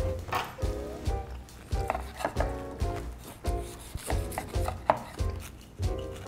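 Crispy breaded cordon bleu being cut on a board, a quick series of sharp crunchy knife strokes repeating in an uneven rhythm, close and fairly loud, with no talk.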